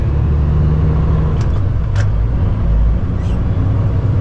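A truck rolls along an open road with a steady, loud low rumble of engine and tyres filling the whole stretch, plus a few faint higher whooshes of passing traffic.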